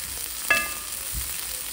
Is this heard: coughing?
no